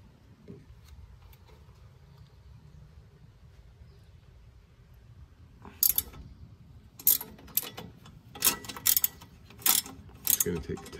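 Quick bursts of ratchet wrench clicking, several separate runs in the second half, as 10 mm bolts come off a Honda Civic underbody shield, with a quiet lead-in before.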